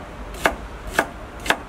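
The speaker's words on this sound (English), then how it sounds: "We're just gonna take the outer shell of the leeks off and just slice the leeks" Knife slicing through peeled leeks on a cutting board, three crisp evenly spaced chops about half a second apart, close and clear with no talk.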